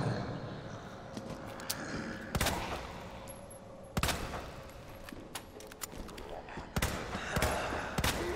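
Gunshots in Resident Evil 2 Remake, a handful of sharp separate bangs spaced irregularly over game ambience, with someone talking between shots.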